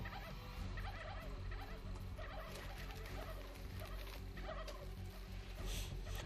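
Turkeys gobble in How to Survive 2, a busy overlapping chorus of rapid warbling calls running throughout, moderately faint over a low rumbling game backdrop.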